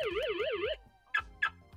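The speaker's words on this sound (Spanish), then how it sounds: "Ya ha detectado el movimiento y ha saltado la alarma, la estamos oyendo" A Xiaomi Mi smart home sensor alarm, triggered by motion, wails in a rapid warbling tone for under a second, then two short sharp beeps follow.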